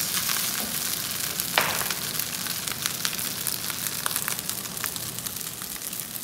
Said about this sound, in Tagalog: Habang kumukulo kasi yan, lalapot pa ng lalapot yan.